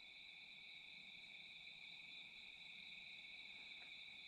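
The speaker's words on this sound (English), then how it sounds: "Hear all the crickets." Crickets chirping at night outdoors under a clear sky, a steady, continuous high trill layered over faint background insect and night ambience, with no voices.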